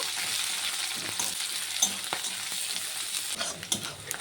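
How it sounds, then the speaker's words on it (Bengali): Onions sizzle and crackle in hot oil, a steady hiss with occasional pops and stirring sounds, close up and moderately quiet, with no voices. "পেঁয়াজটাকে হালকা করে ভেজে নেব।"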